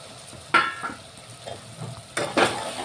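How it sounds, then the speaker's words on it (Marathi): Stuffed eggplants dropped into a pan of cooked spice mixture, a soft background sizzle broken by two sharp clinks of a spoon against the pan and quieter stirring scrapes, close by with no talk. "आता यामध्ये हे वांगे भरलेले जे आहे ते टाकायचे"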